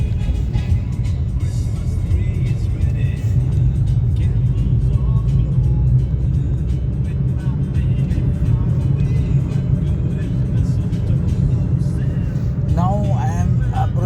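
A car driving through crowded city traffic, with a continuous low engine and road rumble from inside the vehicle and other traffic passing nearby, under ongoing talk.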